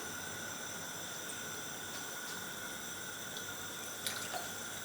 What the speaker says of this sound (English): We have some freshly squeezed orange juice and we're going to add 60 milliliter to the sauce.